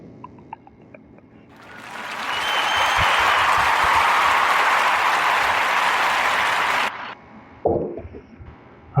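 A burst of crowd applause, likely a canned sound effect, swells in after a quiet moment, holds loud and steady for several seconds, then cuts off abruptly, followed by a short voice.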